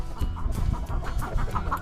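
Hens cluck softly and continuously nearby, a low murmuring chatter of several birds with occasional higher notes.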